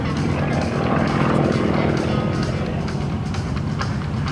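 A Sukhoi SU-26M aerobatic propeller plane flies an airshow demo at Geneseo, New York, its engine a steady, loud drone with a buzzing prop tone that holds throughout without a break.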